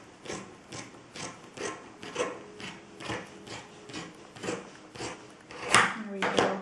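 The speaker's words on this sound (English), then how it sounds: "I'm going to cut off any extra fabric here." Scissors trimming excess fabric from a handmade reusable cloth shopping bag, with a dozen or so crisp, close snips in a steady rhythm, one every half second, and a louder cluster near the end.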